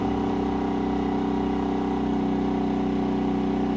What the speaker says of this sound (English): you can hear how the motor quieted down just a bit